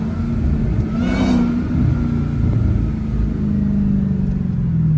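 A Dodge Hellcat revs on a city street at night, a steady low engine rumble swelling into one brief rising rev near the start, then settling back into a continuous drone, close and loud with no talk.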